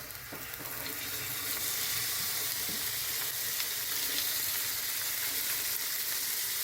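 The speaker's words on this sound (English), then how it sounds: "you're getting a nice sizzle on those chickpeas" A steady, dense sizzle of chickpeas frying in a hot pan, continuous crackling hiss with occasional faint stirring noises.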